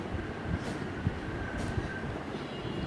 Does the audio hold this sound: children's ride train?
yes